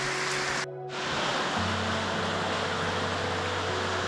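Meltwater from a glacier flows as a steady broadband rush beside an ice cave on an icefield. It is close and continuous, with a brief dip early on, and a low, steady drone joins it partway through.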